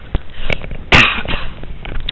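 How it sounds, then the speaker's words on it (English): One loud, harsh cough bursts out close by, amid soft background clatter and faint taps. "Sorry, I had to cough."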